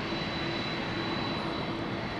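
A steady, loud airplane engine roar fills the air at Andrews Air Force Base during a presidential casket arrival ceremony, a continuous broadband drone with a faint tonal whine and no speech.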